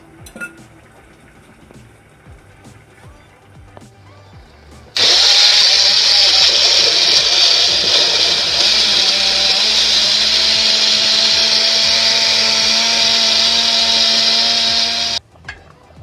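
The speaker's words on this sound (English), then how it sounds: "We're going to blend everything together." A blender whirs loudly and steadily for about ten seconds blending garlic and ginger, starting abruptly and cutting off, after quieter kitchen clatter.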